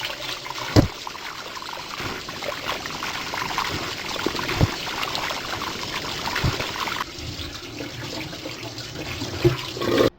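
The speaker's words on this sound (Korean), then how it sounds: "이렇게 건져내서 찬물에 한번 씻어주세요." Boiled pork ribs are rinsed under cold running water, a steady close splashing and trickling stream broken by a few sharp knocks and clatters, with no talking.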